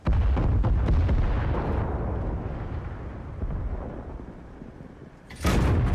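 A tank's main gun fires and a destroyed vehicle explodes in the World of Tanks game, a heavy roaring blast with a long rumbling tail and a second loud burst near the end, with no speech.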